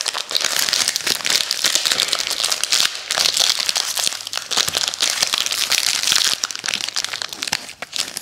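Foil wrapping on a pack of ALDI creme wafer sticks crinkles and rustles up close, a dense, continuous crackle of handling and tearing open with no pauses.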